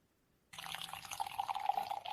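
A fizzy lime ranch water drink is poured into a glass, starting suddenly after silence as a close, steady pour with a rising trickling tone and faint fizzing.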